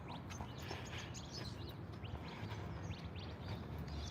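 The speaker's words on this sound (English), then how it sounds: "Listen to the birds." Faint birds chirp and tweet over a steady background hum, with scattered small calls throughout.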